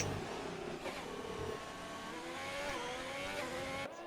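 A race car engine in a sim racing game drops down to second gear, a steady loud engine drone with shifting pitch and a brief rev change near the end, with no voices.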